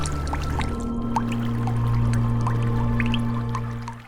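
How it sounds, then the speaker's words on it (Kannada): Water droplets fall inside a cave, a series of sharp, hollow plinks at uneven intervals over a steady low hum, faint to moderate and with no voices. "ಗುಹೆಯೊಳಗೆ ಟಪ್ ಟಪ್ ನೀರಿನ ಹನಿ ಧ್ವನಿ ಮಾತ್ರ ಕೇಳಿಸ್ತಿತ್ತು."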